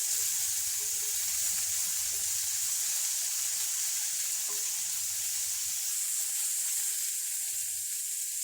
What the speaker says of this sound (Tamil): தக்காளி பாதி அளவு நல்லா பொடி பொடியாக கட் பண்ணி போட்டு அதையும் நல்லா வதக்கி